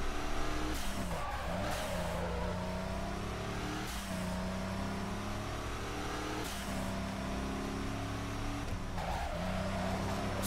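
Mitsubishi Lancer racing engine in Midnight Club 3: DUB Edition Remix, a loud continuous roar with repeated revving climbs and drops across gear shifts, some tire squeal through corners, no talking.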